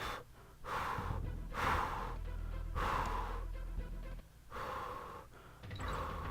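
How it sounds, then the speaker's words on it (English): Heavy breathing close to the mic: loud, rough gasping inhales and exhales, roughly five breaths in a slow, uneven rhythm. "There's a little heavy breathing going on."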